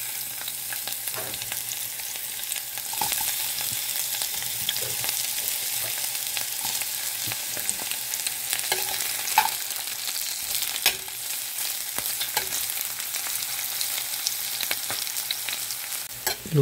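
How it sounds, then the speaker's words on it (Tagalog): Chopped onions fry with golden garlic in a hot pan, a steady close sizzle with occasional stirring scrapes and no talking. "Luto natin konti ang sibuyas."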